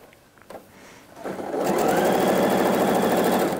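A sewing machine stitches the pocket lining of a coat, starting after a few faint handling sounds and running fast and steady and close up for the last two seconds.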